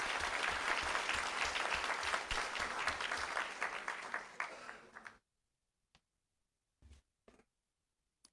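An audience at a school board meeting gives a round of applause, thick clapping with some rhythmic claps that thins and stops after about five seconds, followed by near silence and a few scattered faint clicks.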